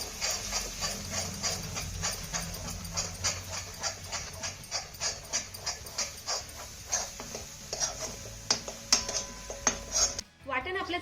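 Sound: stirring ground spice paste into roasted gram flour

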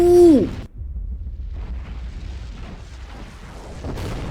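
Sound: bomb explosion in Skibidi War animation

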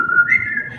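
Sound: person whistling, imitating a coach's signal whistle

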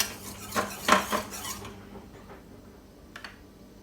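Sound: stir-frying curry paste in oil in a pan

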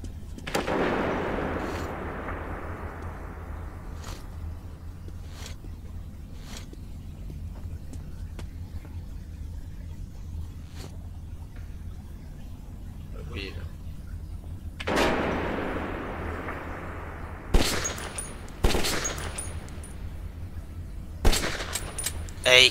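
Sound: gunfire in the video game Metro 2033

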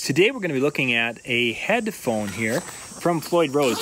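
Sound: cicadas buzzing outdoors in Minnesota

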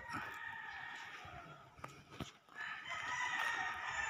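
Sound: chickens crowing and clucking

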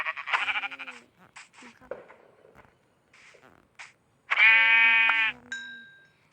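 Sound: sheep bleating in the video game Minecraft

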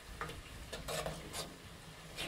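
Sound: stirring oil mixture in pan

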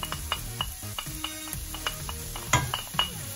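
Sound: onion frying in melted butter and garlic

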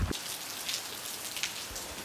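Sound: heavy rain falling

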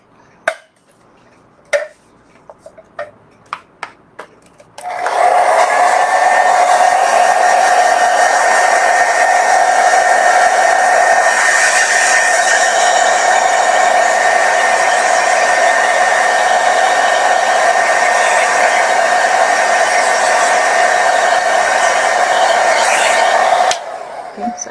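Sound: hair dryer blow-drying a watercolor painting

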